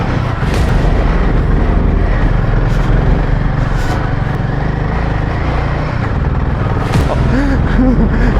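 A Royal Enfield Himalayan 450 motorcycle climbing a steep valley slope in first gear with its back wheel spinning, its engine loud, close and continuous, with rough mechanical churning throughout.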